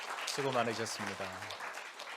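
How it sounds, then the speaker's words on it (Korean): A church congregation at a Sunday service applauds to welcome a pastor back from mission work in Cambodia, a soft, steady patter of clapping running beneath a man's brief spoken words. "박수로 한번 환영해 드리십시다"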